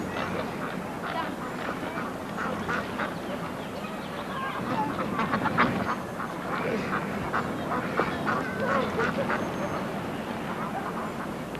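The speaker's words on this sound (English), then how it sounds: "Boy, they're good old birds." Geese or ducks honk and quack in a continuous, nearby flock chorus, with a person talking at times over the calls.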